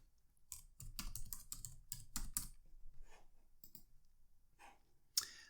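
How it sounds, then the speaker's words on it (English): Fingers tap an answer out on a computer keyboard in quick bursts of clicks, close up and quiet, then trail off into sparse keystrokes and one sharp final tap. "so let's type that in"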